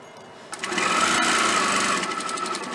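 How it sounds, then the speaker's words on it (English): Sewing machine stitching a seam on a fabric remote control organizer, starting abruptly and running as a steady, close mechanical whir with a fast rhythmic needle pulse for about two seconds. "I am going to sew that line."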